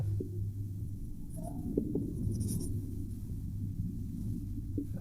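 Chalk or marker scratches steadily across a board as a circles theorem proof is written out, quiet close strokes over a low room rumble.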